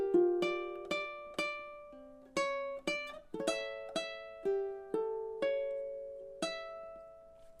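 A ukulele phrase from a song is played solo and close, with a steady series of about a dozen plucked notes and strummed chords that ring and decay between attacks.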